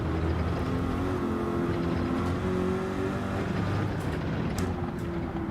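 A race car accelerating hard around the Nordschleife in Gran Turismo 7, its engine a loud, continuous droning roar with steady harmonic tones that shift slightly in pitch as it pulls.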